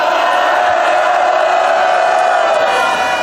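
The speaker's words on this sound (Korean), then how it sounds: "백병전에 나서라고 큰 함성을 해주시기 바랍니다" A large outdoor rally crowd at Gwanghwamun in Seoul roars and shouts in a sustained, loud, dense wall of voices that holds steady throughout.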